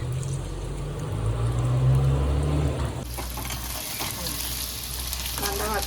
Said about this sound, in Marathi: तेल छान तापले आधी एक कांदा घालून घेते